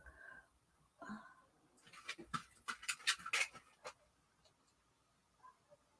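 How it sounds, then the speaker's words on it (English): A dog pants quickly and breathily at close range in a quiet room. There are a few soft vocal sounds near the start, then a cluster of rapid huffs in the middle before it settles down. "Why are you barking so much?"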